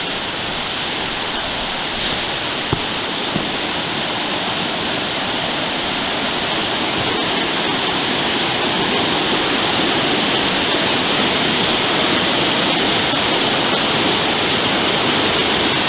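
A loud, continuous roar of rushing water from Franconia Brook, a mountain brook swollen at high water, fills the whole span, steady and close, with no other sounds standing out.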